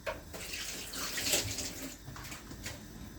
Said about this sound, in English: Let me rinse my hand off.